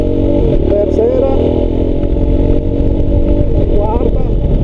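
Motorcycle ridden while shifting gears without the clutch, engine droning loud and close with pitch shifts and rattles, while someone talks over it throughout.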